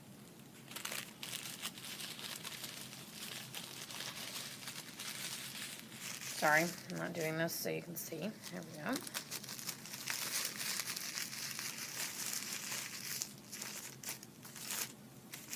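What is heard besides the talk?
crinkling tissue paper petals by hand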